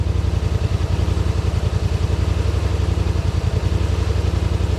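A Yamaha RMAX side-by-side engine, fitted with KILMAT sound deadener, idles with a steady, loud, rapid low throb pulsing evenly and uninterrupted throughout.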